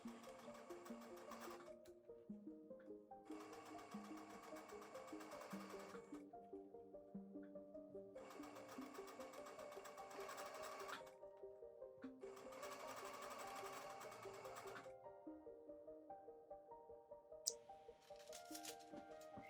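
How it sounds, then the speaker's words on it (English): A sewing machine stitches a nose-piece pocket along the top edge of a four-layer fabric face mask, running in several bursts of quick, even whirring separated by short pauses. "stitch about a 1/4 inch from the top to create a long thin pocket along that top"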